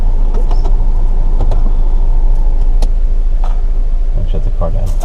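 A car engine idles with a steady low rumble inside the cabin just before shutdown, a voice talking faintly over the continuous hum.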